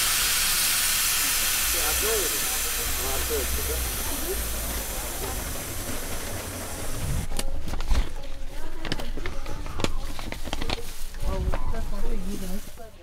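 Passenger train in Uzbekistan releasing a long, loud, steady hiss of air that cuts off abruptly, followed by clanks, knocks and rattling carriage noises with people talking nearby.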